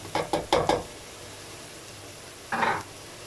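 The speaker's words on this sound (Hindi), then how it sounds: "ये देखें ये फ्राई हो रहा है।" Whole spices hit hot oil in a pan for chicken aloo gobhi: four quick sizzling bursts close by, then a pause and one more crackling hiss.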